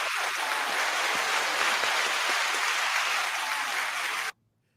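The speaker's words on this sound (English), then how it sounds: "doctor, we are going to give you a round of applause now" Applause for a doctor after a talk about lung surgery, a dense continuous wash of clapping at steady volume that stops abruptly near the end, leaving near silence.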